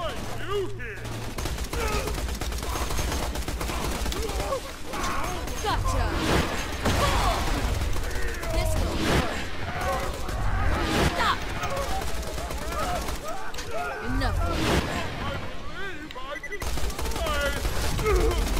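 Rapid bursts of gunfire from a weapon in the video game Borderlands 2, dense and loud throughout with impacts and crashes, while a voice talks over the action.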